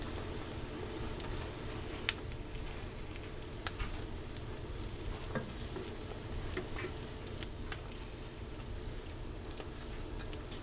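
An egg fries over medium-high heat in a pan for a Texas one-eye breakfast, giving a steady, close, continuous sizzle with scattered small pops and crackles throughout, no voices.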